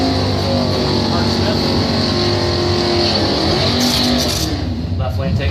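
Drag racing engines, a U1 Camaro and a Pontiac, roar loudly and continuously at the strip, a thick steady blast of engine noise that slightly shifts near the end.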